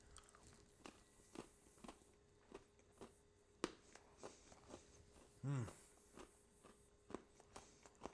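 Hard, dry bites and crunchy chewing on hardtack crackers topped with apricot jam from a Lithuanian military ration, a string of sharp crisp cracks spaced about a second apart, close and fairly quiet.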